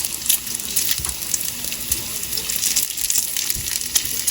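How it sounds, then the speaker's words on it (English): Bacon fries on a Blackstone griddle, giving a continuous close crackling sizzle with scattered pops. "One final flip for the bacon, possibly."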